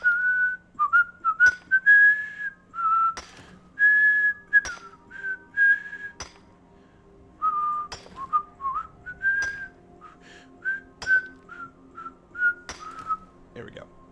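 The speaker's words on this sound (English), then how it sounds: "It's gotta be hard for an orc to whistle because of their tusks." An orc character in Skyrim whistles a wandering tune in a series of clear, fairly loud phrases with short pauses between them, over a faint low hum and occasional sharp clicks.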